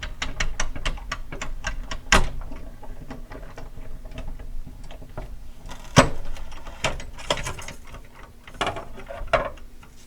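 A die-cutting machine cuts a paper snow hill border, giving clicking, ratcheting ticks and a few sharp knocks at an even, close pace, with no talk.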